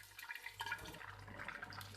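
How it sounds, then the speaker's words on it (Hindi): Water pours into a pot of mixed vegetable pulao with browned ingredients, a steady splashing, running gush that sounds close and continuous for a couple of seconds. "अब हम इसमें पानी शामिल कर देंगे।"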